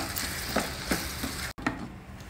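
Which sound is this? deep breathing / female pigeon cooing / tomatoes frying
tomatoes frying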